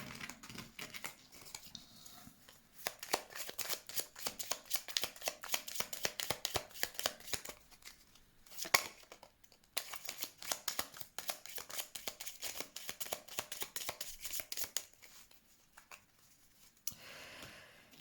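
Tarot cards are shuffled by hand in a steady run of quick, crisp riffling and flicking sounds that lasts throughout, close and fairly quiet, with no talking.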